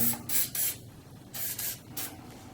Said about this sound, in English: I'm just going to spray some of this lubricant down in here